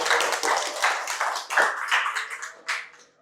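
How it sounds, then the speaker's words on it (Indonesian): Students in a lecture clap their hands in a short, uneven burst, with a few sharper claps standing out before it trails away. "tepuk tangan untuk kalian semuanya"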